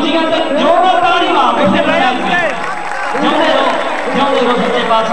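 Loud crowd noise at a 2013 kabaddi tournament in Punjab, with continuous cheering, shouting and clapping from spectators, a dense, steady roar throughout.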